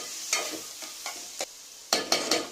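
Onion pieces, green chillies, turmeric and rock salt frying in a pan for a prawn and roselle curry, stirred in several sharp scraping strokes over a soft sizzle, close and clear with no talk.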